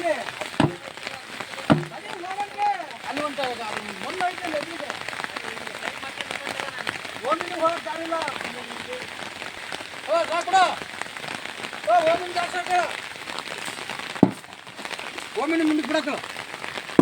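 Heavy rain pours down on workers outdoors, a steady close hiss beneath lively talk that rises and falls throughout, with a couple of sharp knocks.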